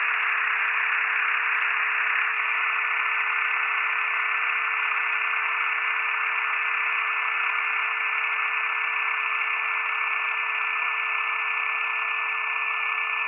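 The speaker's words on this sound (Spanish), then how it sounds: "sonido agudo en una banda de ruido blanco que va abriendo progresivamente" A steady high pitched tone sits inside a band of hissing white noise that holds at an even loudness, with a second faint tone joining shortly after the start and continuing to the end.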